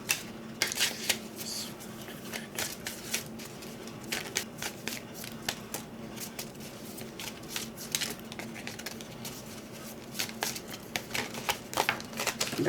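Infinite Visions Tarot cards shuffled by hand, a long run of quick, close riffling and flicking clicks with soft papery bursts, fairly quiet and continuous.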